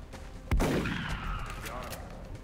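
Gunfire erupts in a turn-based squad tactics game, one loud sharp blast followed by a booming rumble and lingering echo that fades slowly.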